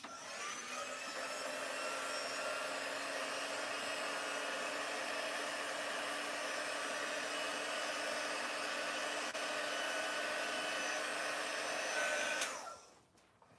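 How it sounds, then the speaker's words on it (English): A heat tool quick-drying chalk paste runs as a steady close whirring blow for most of the stretch, then cuts off near the end and winds down into quiet. "I'm going to grab my quick dry tool just to quickly do a first quick dry."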